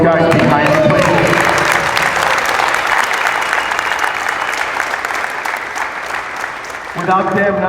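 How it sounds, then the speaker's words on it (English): Audience members applaud at an award ceremony for a sports camp, loud sustained clapping that fades slightly before a voice resumes speaking at the end. "Guys, how about a grand applause for all these guys behind me,"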